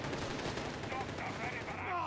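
A Bren gun chatters in the video game Company of Heroes 3, with rapid automatic fire blending into a busy battle din at moderate volume and a faint voice underneath.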